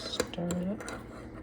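A spoon stirs a lemon ginger drink in a cup, giving a few close, light clinks and scrapes of metal against the vessel over a short moment, with a faint hum in the background.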